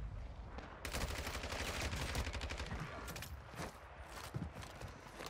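Sustained rapid bursts of M13B rifle fire in Warzone 2, with dense automatic shots over about four seconds and a few scattered shots after, fairly quiet in the mix.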